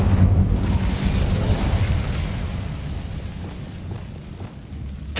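Fiery roar of the Incendio fire spell in the Hogwarts Legacy video game, a loud, dense burst of flame that rushes continuously for several seconds, then slowly eases without pause.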